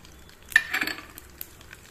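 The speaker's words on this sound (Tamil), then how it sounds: "நான் இப்போ கடுகு பொரிக்கும் போதுயாங்க நான் இந்த ஜீரகத்தையும் 1 டீஸ்பூன் போட்டுக்கிறேங்க" Mustard seeds and a teaspoon of cumin sizzling in hot oil in a pan, a short burst of crackling frying with a few light pops, close and moderately loud.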